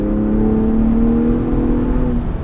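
A 2022 Ford Bronco Raptor driving, its engine giving a steady, loud, close drone with a smooth whir from inside the cabin and no talk.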